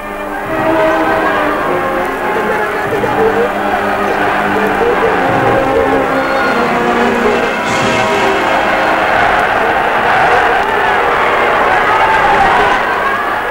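A huge, emotional mourning crowd at King Mohammed V's funeral procession in Morocco, 1961, a dense roaring mass of voices and wailing cries that stays loud and continuous throughout.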